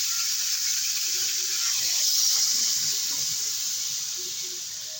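Water poured into a pan of cauliflower curry, a steady bright hissing rush with faint sizzling underneath, fairly close and gradually easing toward the end.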